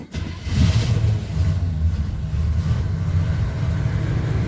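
A 1978 GMC truck engine starting cold after sitting for weeks, catching quickly and settling into a steady, loud idle rumble close to the microphone.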